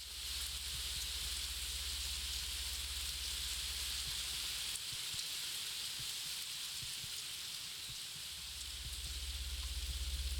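Steady loud rain pours down throughout in the video game The Enigma Machine, a dense hiss with a low hum underneath that drops out briefly midway.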